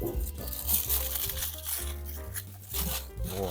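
Aluminium foil being torn and crinkled as it is wrapped around food for shashlik: close, crackly rustling and crunching bursts in quick succession, with a voice faintly audible at moments.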